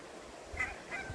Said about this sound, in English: The lake here, and you can hear all the ducks and geese quacking in the background.